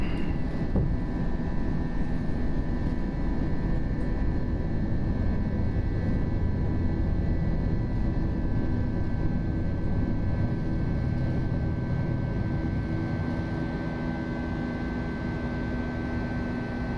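A320 jet engines roar at climb power just after takeoff in the FSLabs flight simulator, a steady, loud broadband rumble with a faint whine that holds unbroken throughout.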